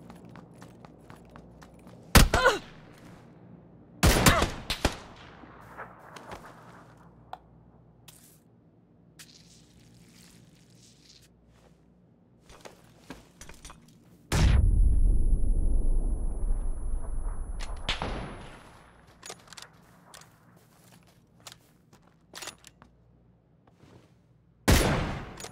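Sharp gunshots crack out in PUBG, a few isolated bursts spread across the stretch, with a longer loud noisy rush in the middle over a low game ambience.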